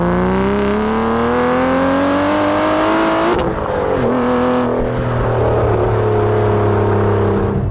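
A manual Aston Martin DB9 V12 with the Sports Pack is driven full bore on a lumpy, bumpy road, its engine climbing loudly through revs, dipping at a gear change, then pulling hard again, close and continuous.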